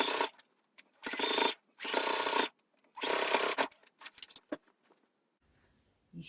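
Sewing machine running slowly while top stitching the seams of Picasso trousers: several short bursts of whirring stitching with pauses, then softer handling clicks and rustles, no talking.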